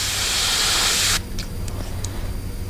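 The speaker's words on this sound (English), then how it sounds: "We just want to make sure there's no overspray and that we're spraying red." An airbrush sprays red paint on a custom Mayan cichlid fishing lure, a loud, steady hiss that cuts off abruptly about halfway through, leaving quieter room noise with a few faint light clicks.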